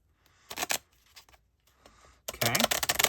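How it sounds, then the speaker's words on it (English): A deck of cardmaking prompt cards is shuffled by hand: a few quick, soft riffling bursts, then a longer, louder shuffle close by in a quiet room. "Let me shuffle again."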